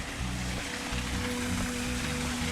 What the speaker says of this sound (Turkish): şelale gibi bir şey ile su aşağıya doğru akıyor